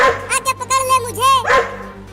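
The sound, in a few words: dog barking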